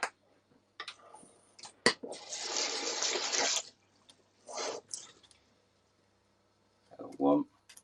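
Cold water, two tablespoons, added to a hot pan of soufflé pancakes, giving a loud sizzling hiss that lasts over a second, with a few brief clicks and a later short thud or clatter.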